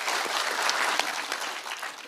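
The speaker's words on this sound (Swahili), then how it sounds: "Makofi tena" Renewed clapping from a gathered audience at a Nyamira County community security meeting, a dense crackle of many hands with a few sharper individual claps, fading slightly toward the end.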